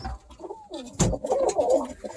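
Pigeons coo in a loft, low throaty calls rising and falling close by, with a sharp rustle or flap in the middle and overlapping birds throughout.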